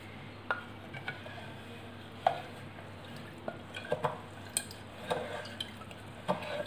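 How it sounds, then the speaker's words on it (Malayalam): A banana wine mixture stirred in a jar, heard as faint, scattered clinks and soft knocks of a utensil against the sides over a quiet background. "നമുക്കിതൊന്ന് ഇളക്കി കൊടുക്കാം"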